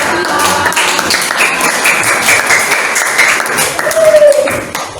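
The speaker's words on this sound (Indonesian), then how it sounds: "Tepuk tangan untuk siapa ini?" Classroom applause from schoolchildren, a lively burst of clapping mixed with young voices and chatter, fairly close and sustained throughout.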